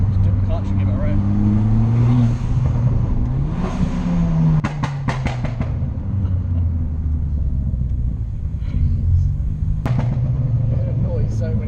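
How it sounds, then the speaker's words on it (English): A 240bhp Ford Fiesta ST on hydraulic suspension revs its engine in a loud, close rumble, rising and falling in pitch over several seconds, with sharp clicks and people talking throughout. "Just dip the clutch and give it a rev."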